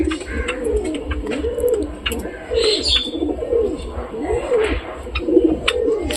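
Several pigeons coo in repeated low, rolling phrases close by, overlapping one another in a steady rhythm, with a few faint chirps in the background.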